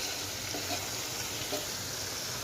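A steady, faint hiss of sweet gourd frying in a home kitchen, continuous and even with a couple of soft stirring bumps and no voices.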